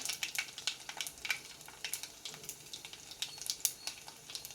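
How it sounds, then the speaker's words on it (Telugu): Mustard and cumin seeds crackle and sizzle in hot oil, sharp irregular pops and spits over a steady frying hiss, close by with no voices. "ఒక పోపు పెట్టుకుంటున్నానండి ఆవాలు జీలకర్ర"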